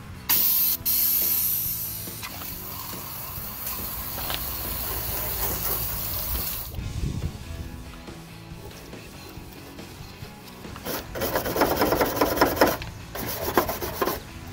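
Hissing bursts of Dupli-Color Rust Barrier rubberized spray paint applied during a Jeep Wrangler TJ tailgate reinforcement install, with several spray passes and a louder, denser hiss toward the end.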